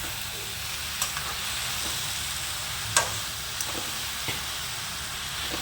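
Leafy greens, soaked moong dal and onion are stirred in a hot pan, with a steady sizzle and hiss broken by a few soft scrapes and knocks of the spoon and no talking.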